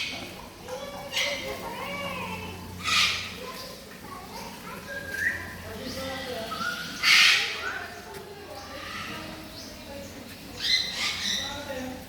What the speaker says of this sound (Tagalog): Giant parrot.